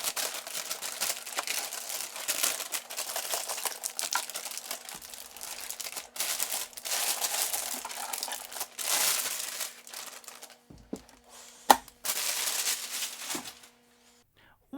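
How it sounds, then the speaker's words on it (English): Plastic wrap crinkles and tears as it is pulled off a new 4-channel programmable DC power supply, in long, dense rustling bursts with brief pauses, close and fairly loud. "Let's take it out of the plastic wrap and have a look at it."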